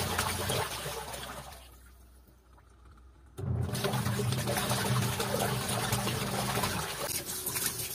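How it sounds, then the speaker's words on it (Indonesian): Fabric being washed in water for ecoprint scouring: sloshing, splashing water that fades to a quiet lull, then returns loud and churning, close to the microphone. "Skareng bisa dengan cara dicuci seperti ini atau direbus."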